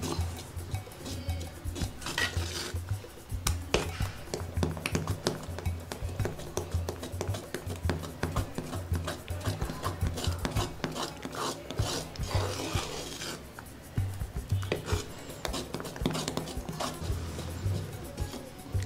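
Thick fenugreek kali dough being stirred in a pot, giving a continuous rasping, scraping rub of a spoon against the vessel, steady and close with no talking.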